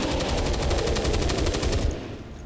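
Rapid point-blank gunfire in XCOM 2: a fast, steady burst of loud, close shots rattling like an automatic weapon for about two seconds, then cutting off abruptly, with no talking.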